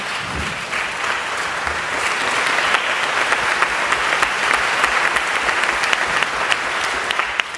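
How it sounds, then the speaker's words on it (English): Audience at the 2013 Hutchins Forum applauding: sustained, dense clapping from a large crowd, steady and loud throughout with no speech over it. "the other reason you should applaud Mom"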